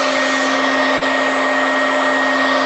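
Loud, constant whirring hum of a hair dryer blowing close by, with a momentary dip in the middle.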